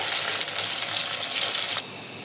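Dried shutki fish fry in hot oil with a steady, close, bright sizzle that runs for just under two seconds, then cuts off abruptly to a quieter hiss.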